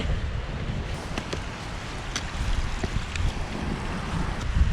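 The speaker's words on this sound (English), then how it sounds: "I've never seen the waterfalls coming down here so full of water." A full waterfall rushes down a mountainside on Ben Nevis in winter, a broad constant roar mixed with wind buffeting the microphone in uneven gusts, with no talking.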